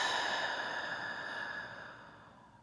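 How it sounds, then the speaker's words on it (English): A single slow, easy exhale after a breath in, soft and quiet, fading away gradually over a couple of seconds, alone and without talking. "So let's take an easy breath in and exhale."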